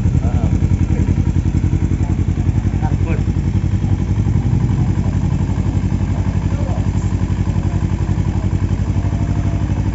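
A Kawasaki Z250 motorcycle fitted with a Termignoni muffler and dB killer idles loudly and close by, a steady throbbing exhaust pulse throughout, with people talking nearby.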